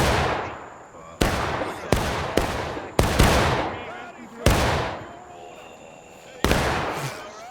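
Musket volleys crack out in a large multiplayer Civil War battle game set in the Maryland Campaign, with several loud, sharp reports in an uneven sequence, each followed by a rolling echo and with faint voices underneath.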